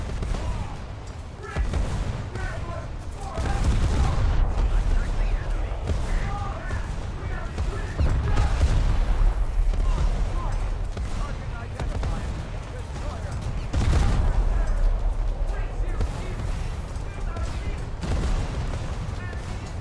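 Naval ship guns firing shells in War Thunder naval battles, heavy booming salvos arriving in several loud waves with rumbling aftermath, while a person talks over the action.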